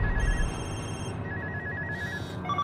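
Mobile phones ring at once during a tense moment, bright overlapping electronic tones layered over a low rumble, with a rising burst near the end.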